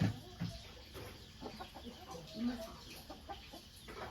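Chickens and a rooster cluck and murmur softly in the background, a scattered flock heard at a distance with low ambient noise.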